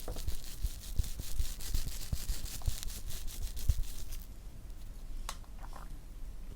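Toasted low-carb protein bread, a frozen loaf warmed in a toaster, handled up close: soft, moist squishing and light patting with brief crackly taps, faint and steady, no voices.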